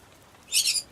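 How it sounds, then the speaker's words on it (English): Short burst of high bird calls, a couple of quick chirps close together, loud against a quiet background with no talking. "Yeah, more birds."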